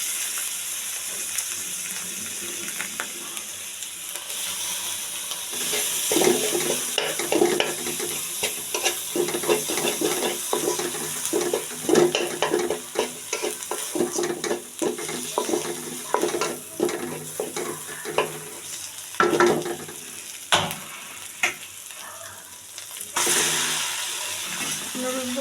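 Tomatoes and spices, including garam masala and chili powder, fry and are stirred in a pan for quick noodles, giving a steady close sizzle with frequent scraping and clinking strokes throughout.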